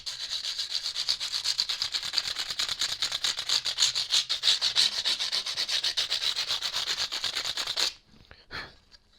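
Sandpaper rubs back and forth over guitar fret ends during fret installation, a brisk, even run of close, rasping strokes that continues steadily for several seconds and then stops abruptly, followed by a couple of faint scuffs.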